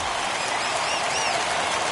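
A home crowd cheers and claps at a ballpark in the baseball video game MLB The Show 21, a steady, dense roar of applause with no break.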